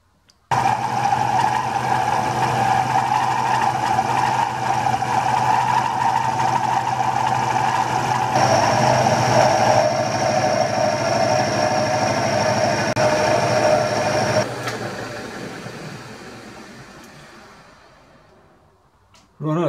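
A steady mechanical grinding drones loudly for about fifteen seconds, its pitch shifting midway, then winds down and fades as the machine slows to a stop.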